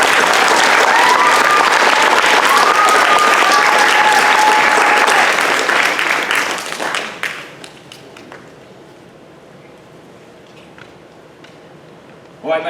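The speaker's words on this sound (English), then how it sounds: "Let's give him a round of applause" An audience at an elementary school DARE graduation claps loudly in a dense, sustained burst of applause that tapers off after several seconds, leaving a hushed room with a few scattered sounds.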